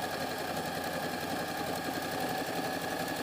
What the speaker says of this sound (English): So now I need to sew the pocket.